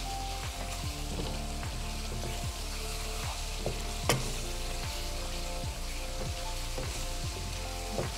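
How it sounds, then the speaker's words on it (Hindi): Masala spices frying and sizzling in a pan while being stirred, a steady loud hiss with occasional scraping clicks, close and continuous with no talk. "यहाँ पे हम मसाले को पहले अच्छी से भून लेंगे।"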